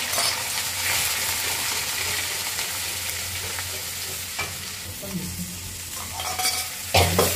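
Spice paste sizzles and is stirred steadily in a pan for a vegetarian cauliflower and potato curry, a close, continuous frying hiss with scraping strokes and a few sharper clinks toward the end.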